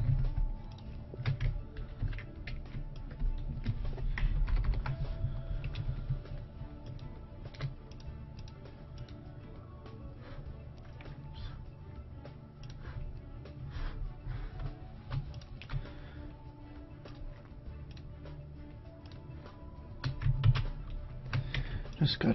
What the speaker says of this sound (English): I just hold down the shift key, and then I can click more areas.